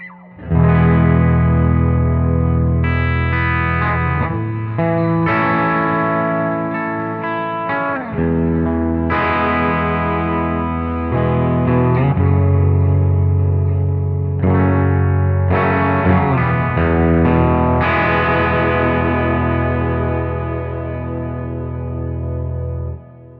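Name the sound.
guitar amp sim Under the Sea preset, long reverb and delay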